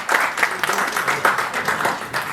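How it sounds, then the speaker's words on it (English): Festival audience applauds an invited speaker, quick close handclaps pattering densely for a couple of seconds with a voice faintly underneath. "May we have a round of applause for him"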